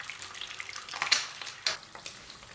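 Eggs frying in a pan in a home kitchen, a moderate crackling sizzle with a few sharper pops and clinks, close by and without talk.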